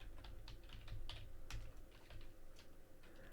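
Fingers type code on a computer keyboard in a quiet room, producing a close run of quick, irregular key clicks with a few louder taps over a low steady hum.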